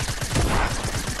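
A short, loud burst of rapid gunfire in the Fortnite video game, several quick shots in close succession heard up close.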